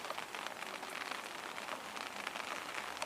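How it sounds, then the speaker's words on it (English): Steady rain patters on surfaces, a dense continuous hiss of drops with occasional louder taps, no voices. "Listen to the rain, that beautiful."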